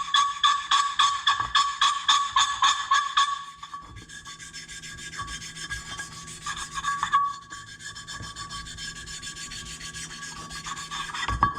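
Rasping, scraping strokes deburring a Kawasaki KFX 450R cylinder head part, a quick run of rhythmic passes followed by steadier, softer grinding, close up and without speech.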